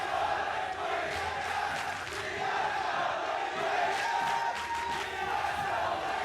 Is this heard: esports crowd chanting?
yes